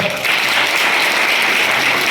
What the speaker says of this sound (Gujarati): એકવાર પૃથ્વીજીને ફરીથી તાળી પાડીને બતાવો